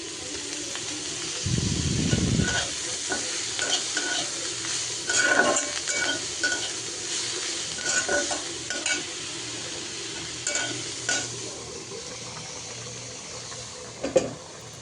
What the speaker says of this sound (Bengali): তো রসুন, পেঁয়াজ, শুকনো মরিচ একসাথে দিয়ে দিছি, তো তেলে ভেজে নিব।